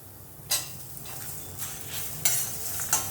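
Grated coconut dry-roasting in a pan for arachuvitta sambar, a soft steady sizzle broken by several brisk scrapes of a spoon against the pan, close and alone with no talking.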